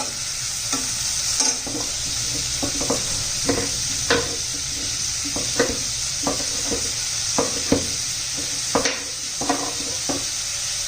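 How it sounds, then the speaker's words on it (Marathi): Tomatoes and slit green chillies sauté in a hot pan with a steady sizzle, while a spoon scrapes and stirs in repeated close, rhythmic strokes throughout, with no one speaking. "आता टोमॅटो घालूया टोमॅटो पण छान असे परतून घ्यायचे एकदम"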